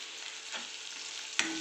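Guar bean curry cooking in a pan as turmeric is added and stirred in, a soft continuous sizzle with a brief scrape of the spoon and a sharper clink near the end.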